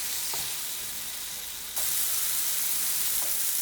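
Vegetables for black bean soup sizzle steadily in a pan over a high flame, with a continuous loud frying hiss that jumps louder partway through and a few faint stirring clinks.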